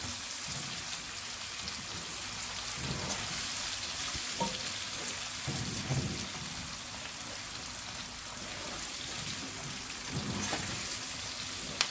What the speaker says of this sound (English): So I'm gonna let the onions cook for about a minute.